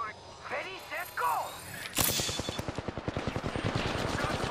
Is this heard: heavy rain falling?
no